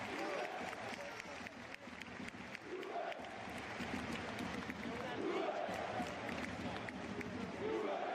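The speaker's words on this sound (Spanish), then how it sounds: "También sale Conceição, bastante aplaudido el chico." Football stadium crowd at a Juventus–Udinese match gives a substituted player a steady, distant roar of applause and cheering, continuous under a commentator's voice.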